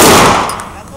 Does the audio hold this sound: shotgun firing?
yes